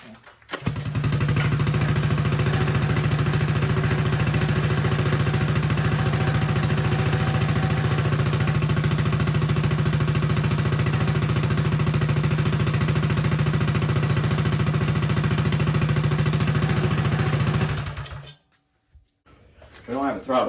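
A stock Coleman 196 small engine starts and runs steadily at a loud, close, rough idle for about eighteen seconds, then cuts out abruptly into near silence before a brief restart at the end.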